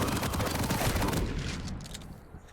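Rapid continuous electric crackle of a lightning gun in a Quake duel match, loud and sustained for over a second before thinning out into scattered weapon sounds.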